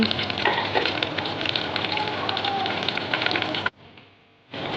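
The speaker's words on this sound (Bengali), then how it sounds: "তেলটা এবার একটু গরম হয়ে এসছে, আমি তাতে খানিকটা কুচনো পেঁয়াজ দিয়ে দিচ্ছি।" Chopped onion hits hot oil in a pan for a Bengali home-style chicken curry, crackling in a dense, busy sizzle that suddenly drops to a faint hiss near the end before swelling again.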